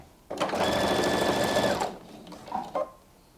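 A sewing machine stitches across the bottom of a beach tote bag in one steady, close burst of about a second and a half. A couple of soft clicks follow as the fabric is handled.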